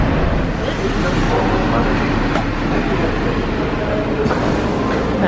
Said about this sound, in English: We're going to hop on the monorail for the first time in a very long time.